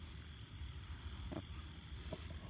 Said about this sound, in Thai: จิ้งหรีดครับ แถวบ้านผมเรียกกิโลครับ